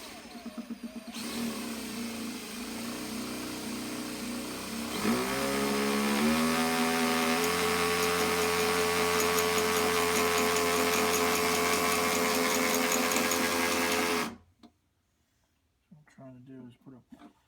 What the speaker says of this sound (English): So I'm ready to break out the power tool. Drill a hole in my precious